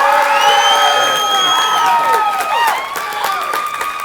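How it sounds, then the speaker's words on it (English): A crowd cheers and claps at a high school team event, with whoops and shouts riding over a steady wash of applause that carries on throughout. "we're going to start over here by a round of applause"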